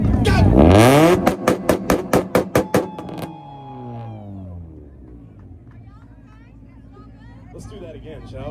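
Honda Integra at a 2-step rev battle, engine blasting through a rapid string of sharp popping limiter bangs, then revs falling away into crowd noise and distant voices.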